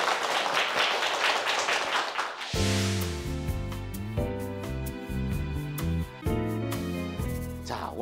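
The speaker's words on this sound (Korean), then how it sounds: "여러분 힘찬 박수로 우리 원장님의 강연 들어보도록 하겠습니다" A studio audience claps warmly to welcome a pediatrician's talk on children's growth at a parenting show; a dense burst of applause lasts about two seconds before loud music takes over.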